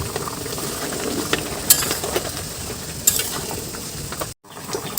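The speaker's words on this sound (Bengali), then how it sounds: "মাছ দেওয়ার পরে মিনিট 5 এইভাবে জাল করে নেব মাছের সাথে আলু দিয়ে।" Fish pieces and potatoes frying in a Bengali fish curry over high flame, making a steady, loud, close sizzling hiss with occasional sharper pops and crackles.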